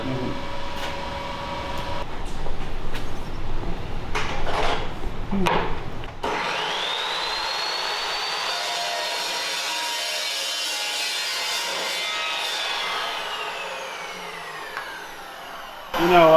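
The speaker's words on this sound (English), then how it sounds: "That Evolution saw is the worst sound ever." An Evolution metal-cutting saw slices through steel roll cage tubing for a 993cc V-twin buggy. Some clanks and scraping come first, then a long, steady, loud shriek of the blade in the cut that holds for about ten seconds before it stops.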